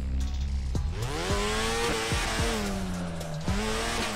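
A Toyota AE86 four-cylinder engine revving hard through gear changes in DRIFT21, its pitch climbing and dropping sharply several times, loud and close with no other sounds.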